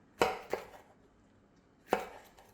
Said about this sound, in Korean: 작고 귀여운 파프리카도 양파처럼 잘게 썰어 줍니다.